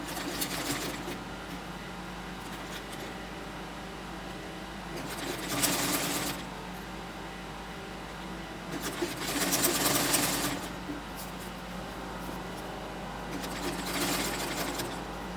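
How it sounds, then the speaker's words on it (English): A sewing machine runs in three separate bursts while tacking down an invisible zip, each stretch of stitching lasting about a second or more, with quiet pauses between them and no talking. "you use the machine to tack it down before you start sewing"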